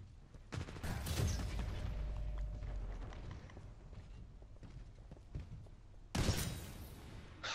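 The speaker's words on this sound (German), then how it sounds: "Ah, ins Gesicht geschossen mit dem Titan." Titan weapon gunfire in Titanfall 2, loud heavy blasts and rumbling impacts in bursts, with a sharp burst again near the end over a dull background.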